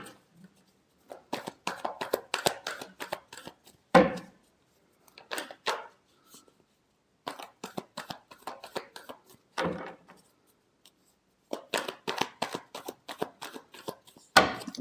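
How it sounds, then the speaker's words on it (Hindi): Tarot cards are shuffled by hand during a love reading. Several separate bursts of quick riffling and flicking sound close and clear, with short silent gaps between them. "last shuffle"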